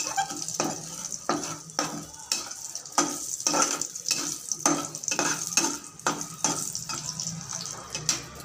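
Lentil dumplings (bori) frying in a pan over lowered gas, close crackling sizzle broken by rhythmic stirring scrapes about every half second, repeated through the whole stretch, no speech.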